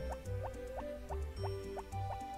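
Trickling stream in the Harvest Moon farming game, heard as a steady run of rhythmic drip-like plinks and bubbly water tones repeating about every half second over a low looping backdrop, close and fairly loud.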